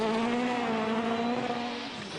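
A rally car at speed on a snowy stage at Rally Sweden 2011, its engine a sustained, tonal high-revving roar held close and loud before easing slightly toward the end.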